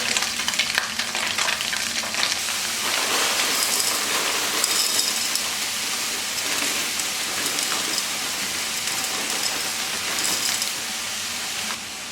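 Food sautéing in a pan with pepper, garlic and onion powder for a vegan dish, giving a steady, close, dense sizzle that runs unbroken throughout.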